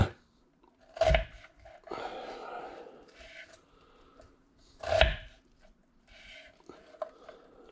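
An onion sliced with a kitchen knife on a board: two distinct cuts with crisp crunching chops about four seconds apart, quieter cutting and handling between them, close and alone.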